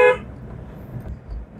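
A single short car horn toot at the very start, followed by the low hum of a running engine.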